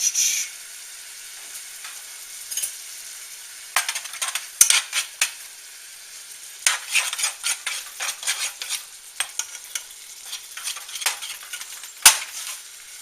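Flour, garlic powder and black pepper cooking in a pan for a broccoli rice casserole, heard as a steady soft sizzle broken by repeated scraping stir strokes and utensil clinks against the pan, with no talking.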